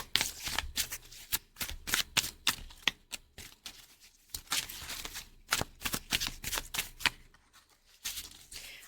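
Tarot cards being shuffled by hand, a steady series of close, crisp riffling bursts and soft slaps repeating in quick rhythm, with no talking.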